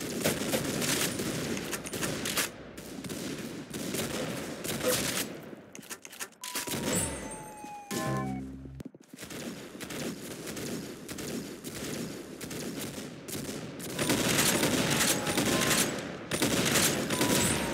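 Dense bursts of automatic gunfire fill nearly the whole stretch, loud and sustained, broken by a short lull where a bird-like chirp and a few thuds come through before the rapid shooting resumes.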